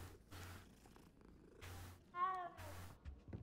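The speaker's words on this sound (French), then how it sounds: "Un autre chat, on va caresser tous les chats de Poudlard" A cat purring softly as it is petted in the Hogwarts castle of the video game Hogwarts Legacy, a low steady rumble in several short bursts with a brief bright meow-like tone in the middle.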